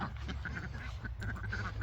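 Ducks quacking in a barn, a quick run of nasal calls close by, repeated rapidly over a low rumbling background.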